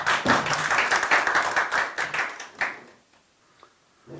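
Audience applause at a Korean policy forum welcoming a lawmaker, dense rhythmic clapping from a room of people that stops abruptly partway through, followed by near silence and a faint tap.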